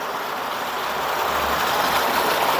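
Rainwater pours steadily from a house gutter of an abandoned house during a downpour. It makes a continuous, even rushing splash that stays close and fairly loud the whole time, with no voices.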